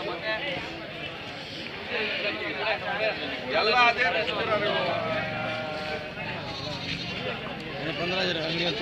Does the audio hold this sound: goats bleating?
yes